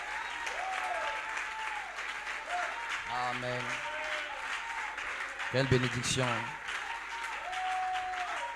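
Applause from a church congregation rises and continues for several seconds, with a voice speaking over the clapping.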